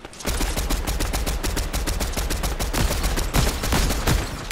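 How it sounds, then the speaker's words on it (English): Rapid, dense gunfire from a Fortnite trios match, sustained bursts of shots cracking continuously and loudly for several seconds with no talk over them. "I'm getting shot at."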